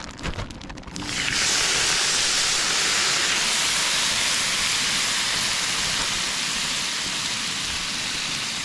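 Zucchini, peppers and onions seasoned with Italian dressing sizzle on a heated Blackstone griddle outdoors, a loud and steady hiss that starts abruptly and keeps going without a break.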